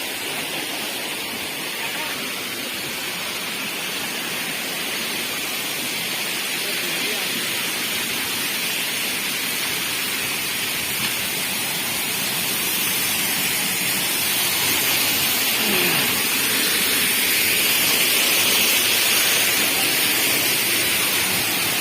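A waterfall at a little-known scenic spot in Madhya Pradesh and Chhattisgarh, a constant broad rushing roar that grows slightly louder over time, with faint voices in the background.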